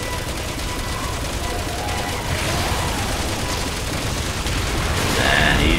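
Gunfire in Resident Evil 6, a dense, steady rattle of rapid shots and booms running throughout, heavy and close, with a voice speaking over it at times.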